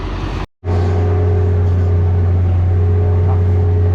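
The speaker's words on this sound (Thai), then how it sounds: "เรามาอยู่บนรถตัด พัฒนากิจครับผม รถตัดฝีมือคนไทยครับ" Steady droning engine of a Thai-built Pattanakit PAT 3508 sugarcane harvester, heard from inside the cab as a loud continuous hum with a low tonal rumble, broken by one brief dropout.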